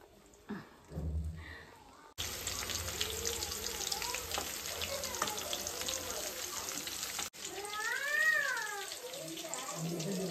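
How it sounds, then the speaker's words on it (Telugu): Homemade hair oil heating in a pan, crackling and sizzling steadily at close range after a brief quiet opening with a short voice. "బాగా ఆయిల్ రెడ్ కలర్లో వచ్చేంత వరకు మనం హీట్ చేసుకోవాలి."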